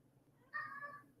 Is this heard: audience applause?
no